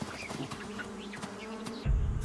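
Bees buzzing steadily around a wild beehive hanging from an old branch in dry savanna, a close continuous hum with a louder burst at the end.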